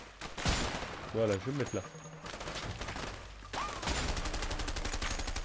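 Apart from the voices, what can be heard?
gunfire in the video game A Way Out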